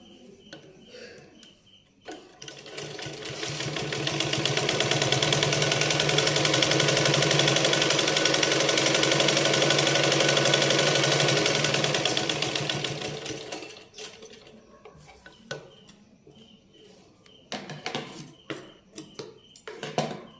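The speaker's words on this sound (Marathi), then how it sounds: "बाहीच्या उलट्या बाजूने आपण सरळ बाजूवर ही पट्टी घेणार आहे आणि याला स्टिच करणार आहे" A sewing machine runs steadily for about eleven seconds, stitching a fabric strip onto the right side of a sleeve, then stops, leaving a few soft handling clicks and rustles close by.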